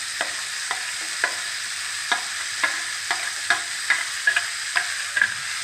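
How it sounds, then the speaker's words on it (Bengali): Pointed gourd and okra stirred in a frying pan at home, a steady oil sizzle broken by about a dozen regular scraping strokes of the spatula, close and clear with no talk. "এবার আমি সবটা নেড়ে নেব"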